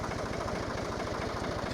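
Tractor engine running steadily on a farm during fence tensioning, a low continuous chugging idle with an even rapid pulse, close and constant with no talking.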